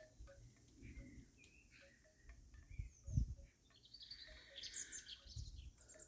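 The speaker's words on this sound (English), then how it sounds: "That high-pitched tweeting is a robin, I think." Robin tweeting in high-pitched bursts near a garden gate, light chirps scattered across a quiet outdoor background with faint insect hum and a brief low thump.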